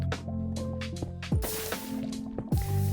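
Blocky water pouring and flowing in Minecraft, heard as a run of close, wet glugging and dripping bursts repeating every half second or so, with some splashy swells between them.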